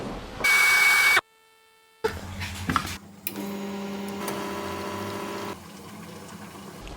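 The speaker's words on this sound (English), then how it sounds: "Now I'm going to prepare my espresso." An espresso machine brews a 40-gram shot for an iced brown sugar shaken espresso, with a loud pump surge, a brief silence, then a steady mechanical hum and trickle that continues and softens toward the end; no talk.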